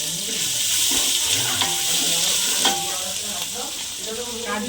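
Cumin, ginger, cinnamon, cloves, cardamom, bay leaf and green chili frying in hot oil in a pan for Gobindobhog rice pulao, giving a loud, steady, close sizzle with occasional stirring scrapes.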